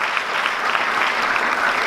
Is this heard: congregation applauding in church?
yes